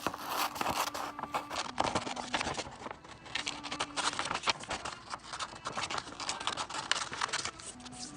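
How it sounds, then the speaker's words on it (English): Scissors snip and crunch through paper in a steady run of quick cuts, with rustling between snips, close by and fairly quiet. "go ahead and grab your scissors and cut it out"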